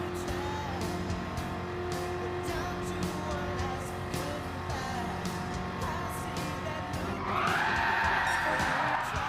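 Engine drone of a small race car in Gran Turismo 7, steady and close, with repeated brief clicks and a rising tire squeal near the end.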